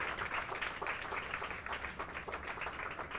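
Scattered clapping from a small audience after a magic trick, thin and a bit uneven, lasting steadily throughout at a moderate distance.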